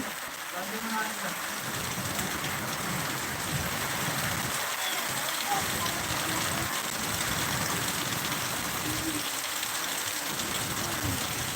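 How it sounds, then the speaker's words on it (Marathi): Constant heavy rainfall with strong wind roars in a dense, unbroken wash, with low gusty rumbling beneath it throughout, in Kinwat, Nanded district. "अर्ध्या तासापासून पाऊस पडत आहे आणि पाऊस आणि हवा खूप जोराची आहे"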